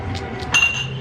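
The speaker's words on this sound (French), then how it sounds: "pour qu'on trinque" Drinking glasses clink together in a toast at a meal, a single bright ringing chime over low room murmur and faint background chatter.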